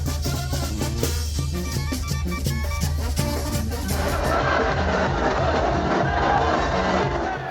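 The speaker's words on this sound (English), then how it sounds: "As you can see, the crowds really build up" A parade crowd at the Day of the Dead celebration in Oaxaca, with a rhythmic band beating and playing at first, then a wash of loud crowd noise and cheering filling the street.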